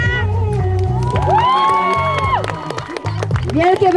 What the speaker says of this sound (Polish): Klara! Wielkie brawa!